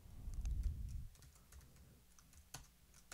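Code being typed on a computer keyboard: a quiet, irregular run of soft key clicks over a low room rumble, with a few sharper taps near the end and no talk.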